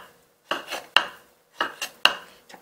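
A kitchen knife cuts an ingredient into a pentagon shape for a Japanese skewer hot pot, giving crisp, close blade strikes on a cutting board in quick, uneven pairs with silence between.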